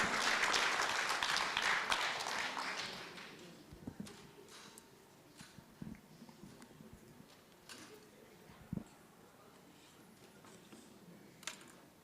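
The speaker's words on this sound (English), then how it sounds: "Please give him a round of applause." Conference audience applause for a speaker at a hospital-related professional gathering, a brief burst of clapping that fades within about three seconds into a quiet room with scattered knocks and shuffles.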